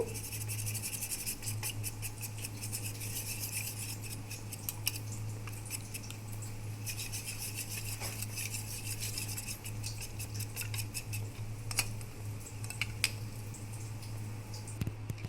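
Thickened milk for a prawn malaikari is whisked in a bowl in a home kitchen, a fast, steady metallic clicking and scraping that continues throughout over a low background hum.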